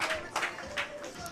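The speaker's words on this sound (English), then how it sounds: "Again, you hear clapping from table 2." Scattered clapping from a nearby table at an 8-ball pool league match, a few soft claps in quick bursts heard at moderate distance in a room with some background chatter.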